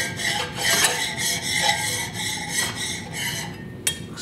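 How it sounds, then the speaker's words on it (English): A hand file rasps back and forth along the polished metal table of a Delta surface planer and jointer, knocking down small high spots with the grain; close, steady repeated strokes with no talking. "just take a file, make sure there's no little high spots"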